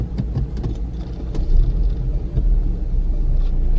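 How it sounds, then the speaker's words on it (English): A 2016 Mercedes-Benz C300 4MATIC car with its engine starting, a low idling rumble with several brief bursts, near and steady, with no voices over it. "Let's go ahead and start the car up here."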